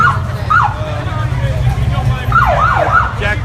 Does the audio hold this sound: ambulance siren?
yes